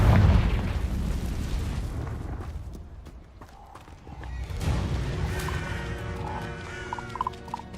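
A Confringo fire spell bursts in Hogwarts Legacy, a loud boom at the start that rumbles and decays, followed by game ambience and faint chiming tones.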